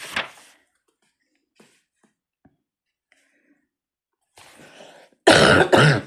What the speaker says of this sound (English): Pardon me, I had to cough.